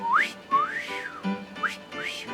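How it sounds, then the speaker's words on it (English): A person whistles alone near a 103-year-old Singer 66-1 sewing machine in a quiet room, a few rising and swooping tones with short gaps between them. "My whistle's a little bit dry."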